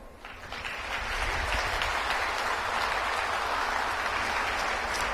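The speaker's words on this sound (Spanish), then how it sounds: "Agradecemos ese aplauso a la licenciada" An audience at a medical symposium on cardiovascular health breaks into sustained applause after a talk, rising quickly to a dense, even roar of clapping that carries on without pause.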